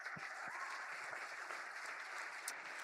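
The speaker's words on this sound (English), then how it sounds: "But can we give them a big round of applause one more time?" An audience at a faculty chamber music concert gives the performers a further round of applause, a soft, distant and even wash of clapping that holds steadily throughout.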